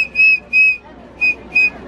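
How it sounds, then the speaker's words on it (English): A shrill train whistle on a Thomas the Train excursion ride blows four short, loud blasts in two pairs, clear and close with little else beneath. "Is that a whistle?"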